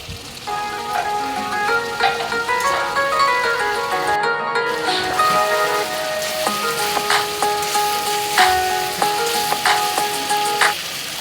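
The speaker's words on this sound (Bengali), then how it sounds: "মাংসটা মনে হচ্ছে আর একটু নাড়াচাড়া করতে হবে" Chicken with chickpea lentils frying in a pan, a constant crackling sizzle with repeated clinks and scrapes of a utensil as it is stirred, fairly close and without talk.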